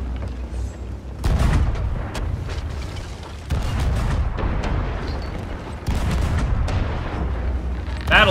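Ship cannons firing in Sea of Thieves, a string of heavy booming blasts in close succession over continuous rumbling sea and battle noise.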